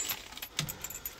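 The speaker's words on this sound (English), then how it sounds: "on this one there are two keys" Keys for a 2016 VW Crafter 2.0 TDI van jangle faintly for a moment, a light metallic clinking with a few small taps close by.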